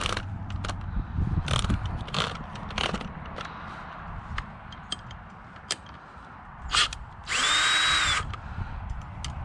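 A power wrench removes case bolts from a Yamaha WR400F motorcycle, with short loud whirring bursts separated by clinks and handling of parts, ending in one longer sustained whir.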